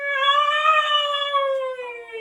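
A long, loud, drawn-out meow, slightly falling in pitch at the end, sounding like a person mimicking a cat.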